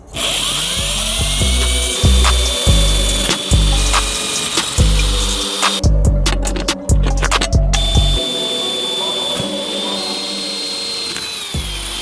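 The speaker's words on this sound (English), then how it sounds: "we can still at least get the holes drilled for it" A power drill bores holes to fit a solar panel mount on a truck. The drill runs in close, loud, repeated bursts with brief pauses between them.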